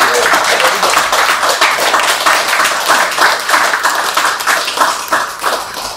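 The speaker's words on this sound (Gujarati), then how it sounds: "એક વખત જોરદાર તાળીઓ તમારા ઘરની એ સ્ત્રીઓ માટે" Loud, sustained applause and clapping from an audience at a live Women's Day stage event, honoring the women at home, with dense rapid claps filling the whole stretch.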